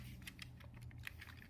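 Small plastic clicks and taps as a headphone jack is pushed in and parts are tucked into an Xbox 360 controller during a mod, several light, close ticks in quick irregular succession over a low steady hum.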